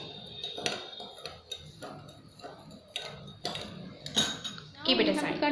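A spoon stirring sugar into milk in a cup, repeated light metallic clinks and taps against the sides at an uneven rhythm, close and fairly quiet.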